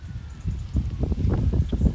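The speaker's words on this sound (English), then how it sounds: "Oh, then the wind blows." Wind buffets an outdoor microphone in a steady low rumbling roar, rising and falling in gusts with no other clear sounds.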